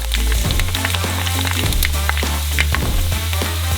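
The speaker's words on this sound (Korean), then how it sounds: "뻥 튀기기 시작하며 팝콘처럼 돼요" Loud, steady sizzling of oil heated above 200°C with crackling pops as buckwheat grains puff like popcorn while deep-frying, a dense continuous hiss throughout.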